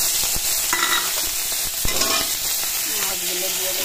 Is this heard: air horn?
no